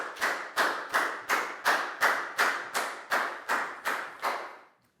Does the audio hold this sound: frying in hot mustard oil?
no